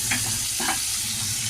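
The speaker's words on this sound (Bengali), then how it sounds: "পেঁয়াজটা আমি লাল লাল করে একটু ভেজে নিয়ে" Onion fries in a pan for a prawn curry with a close, steady sizzle, and a few brief stirring scrapes rise above it.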